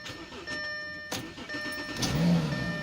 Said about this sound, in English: I start up my car.